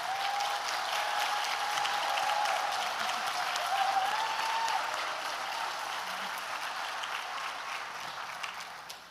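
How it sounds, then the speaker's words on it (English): Sustained applause from an awards-ceremony audience honoring healthcare award winners at a hospital gala, a steady dense wash of clapping that holds strong throughout and eases slightly toward the end. "we'll clap for them all one more time."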